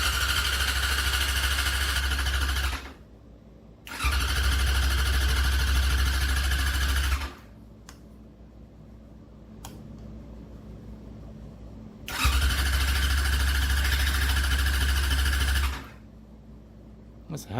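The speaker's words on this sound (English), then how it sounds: "That's a hell of a starter motor." Starter motor on a Yamaha YZF R6 motorcycle cranking loudly in three long whirring bursts without the engine catching, with quieter gaps between them.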